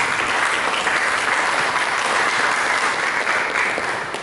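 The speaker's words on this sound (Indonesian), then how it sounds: "Mari kita berikan tepuk tangan." Sustained, steady applause from a church congregation during an Indonesian sermon, loud and dense throughout with no gaps or talk over it.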